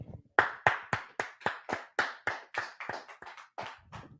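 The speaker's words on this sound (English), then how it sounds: "let's clap it up" Group hand clapping in unison at a Friday night Hebrew language class, about fourteen sharp, evenly spaced claps in a steady rhythm, close and crisp with brief silence between each.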